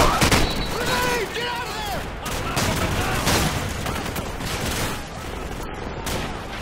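Sustained machine-gun fire in the video game Call of Duty: Modern Warfare, loud rapid bursts blending with battlefield noise while voices shout over the shooting.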